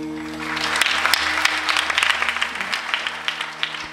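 Audience at a Marathi kirtan clapping together, a steady patter of many hands with a low sustained hum underneath, moderately loud throughout.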